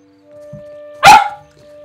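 One sharp, loud dog bark rings out close by in a quiet room over a faint steady hum, preceded by a soft small yip.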